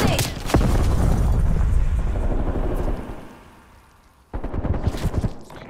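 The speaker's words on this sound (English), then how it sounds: "Throwing grenade." Grenade blast in Call of Duty Black Ops Cold War: a loud, sharp boom at the start with a rumbling roll of gunfire-like noise trailing off, a quiet gap, then another burst of heavy battle noise.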